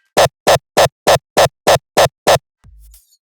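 The mid punch layer of a frenchcore kick drum built from a default FL Studio kick sample: eight sharp, evenly spaced punchy hits in quick succession, loud and dry, followed by a brief low hum.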